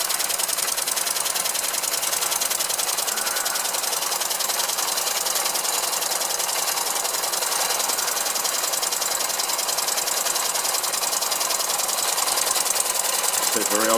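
Hand-built 1912 oscillating steam engine driving an old line shaft, a steady dense mechanical clatter and hiss running continuously and close by without break.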